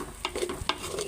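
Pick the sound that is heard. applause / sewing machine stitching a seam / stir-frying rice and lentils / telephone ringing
stir-frying rice and lentils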